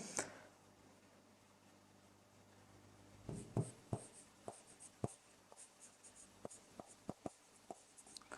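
A pen moves over paper while a letter is written by hand, soft faint scratching with a scattering of light taps and strokes, close and quiet.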